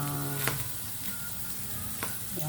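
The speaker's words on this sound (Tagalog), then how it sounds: "Igigisa natin siya para maglasa yung luya sa ating ginataang tambakol" Ginger sautés in oil for ginataang tambakol, a steady close sizzle broken by a couple of sharp spatula taps against the pan, with no talking.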